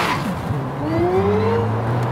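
A Porsche passes behind in the Forza Horizon 5 racing game, its engine note rising and sweeping by with a tire squeal amid steady road noise.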